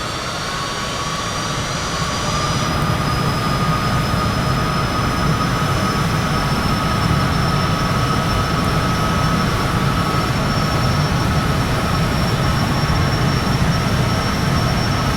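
Jet engines in a flight simulator game on a Corsair One i165 PC spool up into a loud, steady roar with rising whine tones, continuous and alone throughout.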